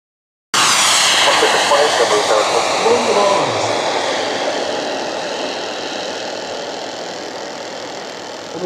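A turbine engine on a radio-controlled Swiss Hawker Hunter MkII scale model jet spools up loud and close, a steady roaring whine that holds strong and slowly eases off.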